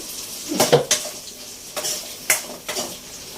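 Green chilies fry in hot oil in a pan, heard as soft sizzling broken by several sharp scrapes and clinks of a utensil stirring against the metal, close and clear with no talk.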